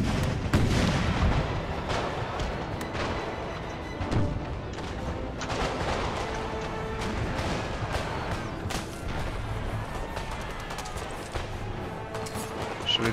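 Artillery fire in a Napoleon: Total War battle with DarthMod: a dense, continuous barrage of booms, cracks and crashes overlapping throughout, loud and layered over a constant battlefield roar, with scattered sharper nearby shots standing out.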